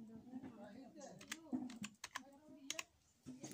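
Keys clack on a computer keyboard as a word is typed into a Microsoft Word search box, quick irregular taps scattered under a man's close, continuous talking.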